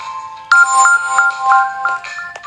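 A bright electronic phone ringtone plays a quick repeating melody of short tones, loud and close, with no one speaking.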